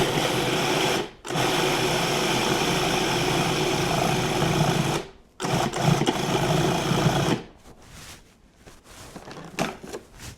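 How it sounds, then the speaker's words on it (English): A blender whirs loudly, mixing a thick protein energy bite mixture of protein powder, oats and vanilla, running in steady bursts with brief pauses before it winds down into quieter clattering. "then we'll blend until the mixture starts coming together"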